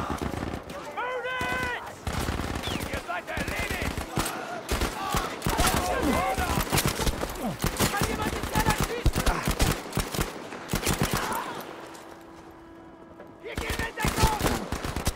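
Old-style pistol and other gunfire in a Battlefield V battle, dense sharp cracks and rapid bursts in quick succession, loud and continuous with a brief lull near the end, with game voices and effects mixed in.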